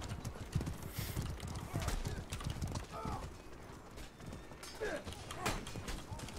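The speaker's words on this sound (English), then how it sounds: "Don't shoot arrows at the horse." Horse hooves in the medieval combat video game Mordhau, quiet rapid clip-clop beats running under battle noise and soft talking.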